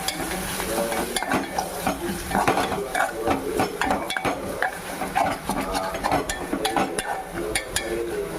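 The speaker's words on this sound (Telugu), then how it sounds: "జీడిపప్పు వేసుకుందామండి." Cashews fry with turmeric in a pan for pipes biryani, with an active sizzle under busy, repeated spatula scraping and metallic clatter against the pan.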